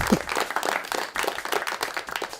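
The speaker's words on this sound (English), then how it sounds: "Don't clap for that." Scattered clapping from an audience, a burst of hand claps that dips briefly then picks up again, fairly close and lively.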